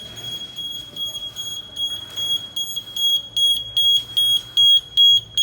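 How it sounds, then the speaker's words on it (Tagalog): A smoke detector sounds during fire alarm system testing, repeating sharp high-pitched electronic beeps in a regular pulsing pattern that grow louder and more insistent toward the end. "Smoke detector."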